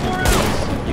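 Rapid, dense gunfire from a weapon with a stuck trigger in The Division, a continuous loud burst of shots filling the whole moment with a heavy thump partway through.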